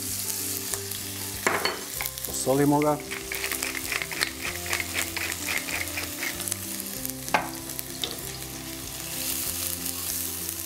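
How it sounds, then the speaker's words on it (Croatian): Chopped onion, salted, frying in olive oil in a pan over medium-high heat, with a steady sizzle, stirring clatter and scraping throughout and brief talk near the start. "na srednje jakoj vatri pržimo dok malo ne omekša."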